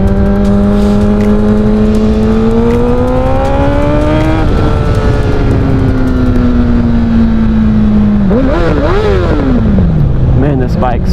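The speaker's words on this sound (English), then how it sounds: "Man, this bike sounds filthy." Honda CBR1000RR sport motorcycle engine running loud and steady while riding, its pitch climbing and dropping through shifts and revs, with a voice over it.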